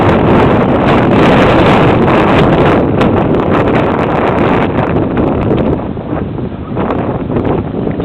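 Strong wind buffets the microphone of an FPV drone flying into a headwind, making a loud, continuous roaring rumble that eases slightly toward the end.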